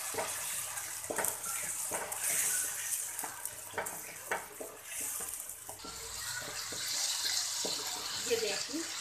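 Water is poured into a pan of salt, chili and spices frying for macaroni pasta. It sizzles and splashes close by, with clinks of stirring and a voice talking over it.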